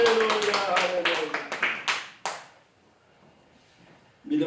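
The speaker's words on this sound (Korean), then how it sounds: "우리 박수 영광." A congregation at a Korean Sunday church service claps in a quick run of distinct, fairly loud strikes for about two seconds, then falls quiet before a voice begins.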